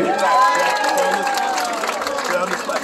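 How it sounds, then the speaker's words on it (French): An audience of children at an outdoor show in Laval, Canada claps and cheers, with a dense patter of hands under high, excited young voices, loud and close. "On applaudit le Jimber."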